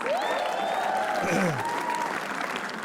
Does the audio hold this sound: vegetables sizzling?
no